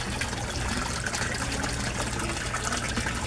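Aerator pump for a koi pond running steadily, with water bubbling and gushing in a constant close, even rush throughout.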